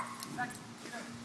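A dog barks at a man in a residential lakeside community near Lake Murray, a few soft, short yips under steady nearby conversation.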